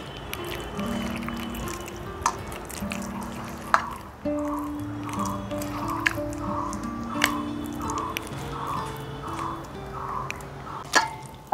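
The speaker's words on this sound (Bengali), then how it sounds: "ঠান্ডা জল দিয়েই এটা মাখবো।" Bael fruit pulp being mashed by hand with cold water for a summer sharbat, wet squishing and sloshing with small drips and a few sharp clicks, close and steady, while a voice hums or talks faintly underneath.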